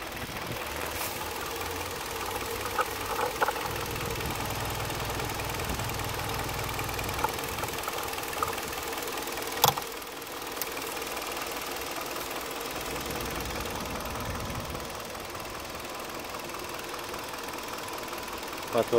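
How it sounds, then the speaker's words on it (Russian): A 2011 Kia K5 with a 2.0-litre petrol engine idles steadily, a continuous mid-low hum with faint ticking, close by and fairly quiet, with a couple of brief knocks near the middle and end. "Мотор работает хорошо."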